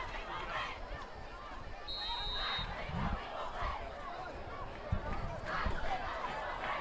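Crowd noise fills a packed high school football stadium during a Liberty at Ridgeview game, a steady close hubbub of many voices and chatter with scattered shouts and thumps throughout.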